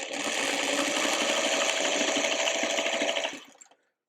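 Sewing machine running steadily as it stitches quilt block seams with nested seams, a continuous close, loud motor whir and needle chatter lasting about three seconds before winding down and stopping.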